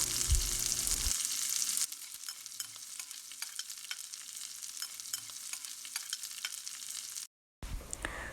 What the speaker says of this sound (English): So our okra slices are cooking quite quickly.